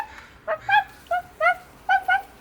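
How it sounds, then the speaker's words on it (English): A pet dog indoors in a kitchen letting out a series of about seven short, high-pitched yips and whiny barks in quick clusters, close and clear. "Okay, enough barking."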